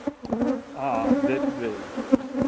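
Saskatraz honeybees buzz steadily around an open hive during a colony check, a close, continuous hum with shifting pitch and a few sharper passes near the ear.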